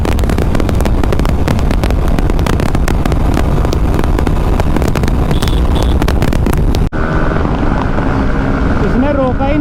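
A TVS Apache RTR 160 2V and a Hero Xtreme 160R motorcycle drag racing, engines roaring steadily at high revs amid heavy wind buffeting, with a sudden drop to a calmer engine drone near the end.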